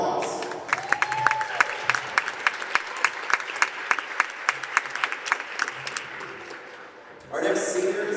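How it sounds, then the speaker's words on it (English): A crowd at a men's college basketball game applauds a senior player in a steady burst of clapping with scattered sharp claps, fading before a louder swell of applause and cheering at the end. "Please join us in giving Carter a huge round of applause"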